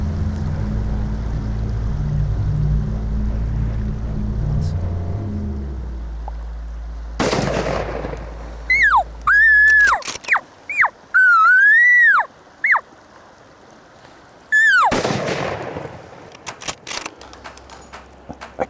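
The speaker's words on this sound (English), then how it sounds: "After that second shot, he definitely wasn't going nowhere." Two loud, sharp rifle shots crack about eight seconds apart during a bull hunt, with high whistling animal calls between them and a low engine rumble fading away beforehand.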